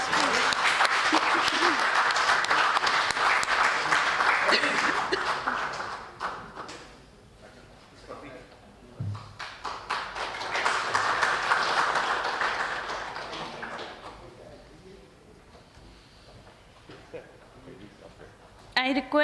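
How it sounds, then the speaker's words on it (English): An audience at an award ceremony applauds as a token of thanks is presented, with a loud burst of clapping that fades, then a second, softer wave that dies away to quiet. "Applause, please."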